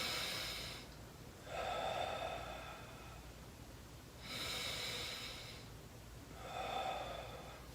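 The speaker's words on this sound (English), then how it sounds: "So I take a deep breath in." Slow, deep breaths in and out during a breathing exercise for low back pain, three long inhalations with hushed exhalations between, close and alone with no talking.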